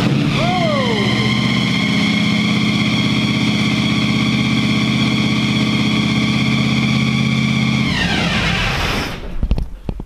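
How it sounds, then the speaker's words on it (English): A supercharged car engine with carburetors, in a Tide car, fires up and settles into a loud, high, steady idle that holds for several seconds before being shut off and dropping away. "Fired right up, but that idle's way too high."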